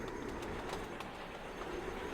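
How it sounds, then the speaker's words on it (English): A bread delivery train departs in the Sweet Transit video game, a continuous rolling rumble with faint rhythmic clatter, moderately quiet and steady throughout. "The local bread delivery train has left."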